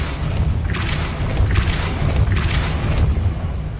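A Depulso force spell from Hogwarts Legacy lands in three heavy, booming impacts about a second apart, each a loud bursting whoosh over a steady low rumble of game ambience.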